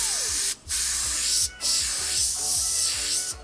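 An Iwata HP-CH airbrush sprays Payne's Gray paint in a loud, close, breathy hiss, cut twice by short pauses between light strokes, over a faint rhythmic compressor pulse.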